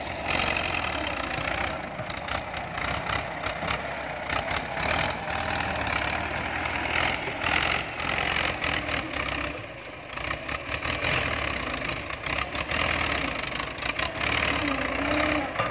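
An old Ford farm tractor idles with a steady, continuous mid-to-low engine rumble while pushing soil to build a field access path beside a pond, the sound staying fairly loud and even throughout.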